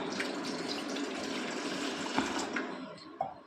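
About one and a half tumblers of water pour into a pot for porridge: a steady, close, rushing trickle with a few small splashes toward the end.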